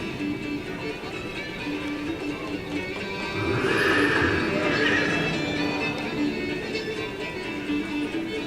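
Shire horses neighing loudly in an indoor arena at an equine exhibition, a long whinny rising above steady crowd murmur and the clatter of hooves on the arena floor.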